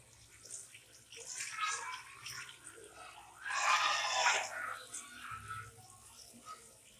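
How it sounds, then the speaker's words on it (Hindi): Rice being washed in water for a Pakistani degi chana pulao: sloshing, swishing bursts in two main waves with quieter splashing between, close and moderately soft. "चावलों की धुलाई हो रही है।"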